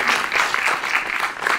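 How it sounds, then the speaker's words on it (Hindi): Audience applause at a book launch event in Chandigarh, a steady burst of clapping from a crowd filling the whole short moment without pause. "उसके लिए भी जोरदार तालियां बजा दीजिए"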